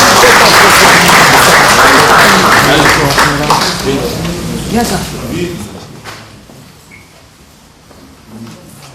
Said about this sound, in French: Nous les recevons sous vos acclamations.